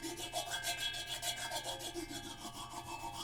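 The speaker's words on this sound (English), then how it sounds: "you can scrape with the sticks too" Drumsticks scraped against a drum or percussion surface, a quiet, steady rasping rub with rhythmic back-and-forth strokes, faint and close with no talk.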